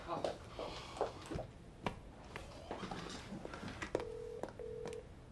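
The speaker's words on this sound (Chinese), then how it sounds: "唉，玲玲又唔听我电话嘅。" An outgoing telephone call rings unanswered, with two short, steady ringback tones near the end, heard over a busy room where people talk.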